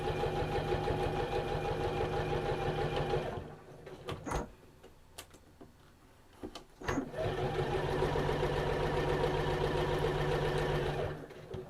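A sewing machine stitching layered fabric for a sewn luggage tag runs in a steady loud whirr, stops for a few seconds with small clicks and handling sounds, then starts up again in another long steady run.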